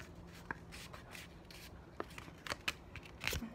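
A white paper square folded into a triangle: soft rustling and rubbing with a few crisp creases and taps, close and fairly quiet.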